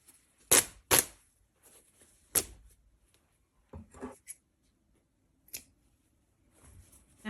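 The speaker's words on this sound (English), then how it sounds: "I think I am going to just cut the lining up" Scissors snip through the lining fabric of an old jacket: a few sharp close cuts near the start, then sparser snips and rustling of cloth, with no speech.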